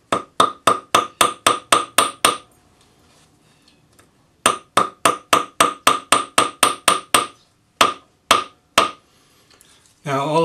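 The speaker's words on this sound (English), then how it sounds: "So I'm just going to gently hammer this." Sharp metallic planishing hammer taps on wire over a bench block in quick rhythmic bursts, several runs of evenly spaced strikes separated by short pauses, close and loud; a brief voice at the end.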